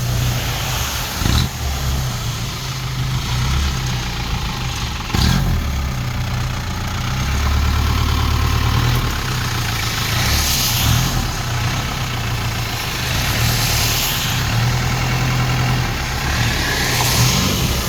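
A bus-type truck's engine idles nearby with a deep, rumbling low throb that holds steady throughout, swelling slightly now and then, with no voices over it.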